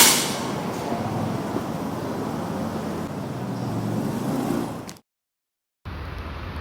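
Toyota Hilux Revo Z Edition Smartcab Entry pickup truck pulling away, a steady close engine and road rumble for about five seconds before cutting out, then resuming more faintly.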